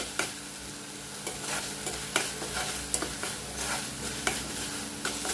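Masala being sautéed and stirred in a pan over a medium gas flame, a steady close sizzle broken by repeated scraping strokes of the spoon, with no talk.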